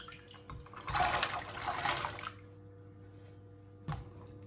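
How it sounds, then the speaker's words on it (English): Chickpeas are poured into a pot of water with a loud rushing splash for about a second, then quiet, followed by a single soft plop near the end. "We have a pot of water and we're going to add the chickpeas to it."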